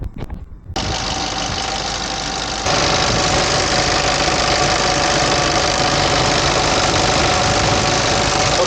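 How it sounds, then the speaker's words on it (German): A self-converted camper van's engine cranks and catches in a Siberian repair workshop, then settles into a loud, steady idle with a continuous knocking rumble that holds close and unbroken to the end. "Und jetzt startet Andi gerade nochmal den Motor"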